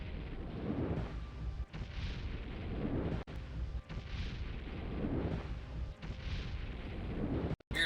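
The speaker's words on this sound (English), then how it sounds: "I'm gonna shoot fireballs at you." Repeated fireball spell blasts in the Morrowind video game, a dense stream of deep booming explosions rumbling one after another, loud and continuous with a few brief gaps, no talking.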